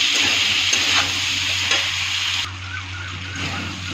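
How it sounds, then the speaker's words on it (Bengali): Soybean curry with capsicum fries in ghee in a pan, a continuous close sizzle broken by scraping stirring strokes, with a brief dip in loudness midway. "এখন এটাকে 5 মিনিট ভাজা ভাজা করবো আমি আবার।"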